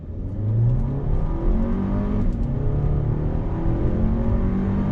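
A 2020 VW Atlas Cross Sport SUV pulls hard under throttle, its engine note rising steadily and loudly from inside the cabin for the full stretch, with no voices over it.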